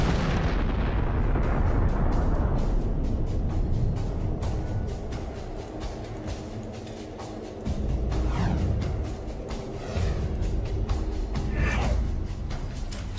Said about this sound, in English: the remaining stuff will evaporate in a colossal explosion